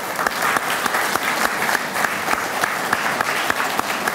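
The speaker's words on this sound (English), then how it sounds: "Round of applause for these people." An audience at an astronomy club meeting applauds volunteers, a steady wash of many hands clapping at a fairly even level for several seconds, with individual claps popping out of the crowd sound.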